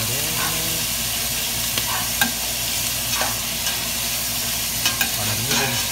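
Ground beef for a bolognese sizzles and crackles steadily in a pan over medium heat, with occasional scraping and stirring sounds from a utensil; no voices.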